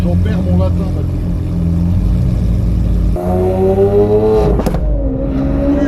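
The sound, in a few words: Lamborghini with full tube exhaust accelerating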